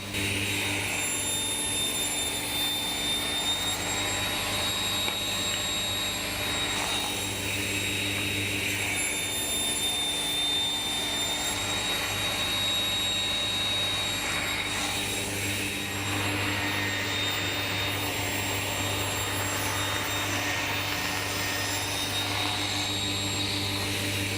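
A power saw cuts wooden pieces for an end grain basket weave cutting board. Its loud, steady motor whine runs without a break for the whole stretch, with slight shifts in tone as the blade works through the wood.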